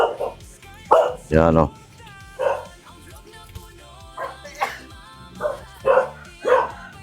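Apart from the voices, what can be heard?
dog barking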